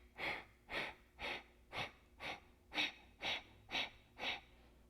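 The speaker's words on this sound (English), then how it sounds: "We're going to do one round of Kapalabhati breath here." Kapalabhati yoga breathing: nine sharp, forceful exhalations through the nose, evenly spaced about half a second apart, close and fairly soft, with no talking.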